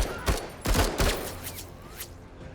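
Gunfire in the tactical video game Menace: a few sharp, loud shots land in quick succession early on, then fade into a lingering echoing tail and quieter ambient noise.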